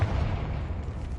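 A Confringo blast spell in Hogwarts Legacy erupts as a single muffled explosive boom with a sustained low rumble, moderately loud and heavy in the bass, fading only slightly.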